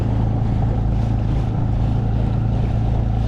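Outboard motor pushing a tiny kayak at about quarter throttle, a steady close droning hum with wind and water rush, continuous and alone with no talk.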